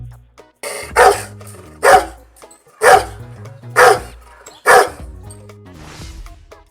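A dog barks five times at a steady, roughly one-second rhythm, loud and close, each bark sharp and clear with quiet gaps between, followed by a fainter breathy sound at the end.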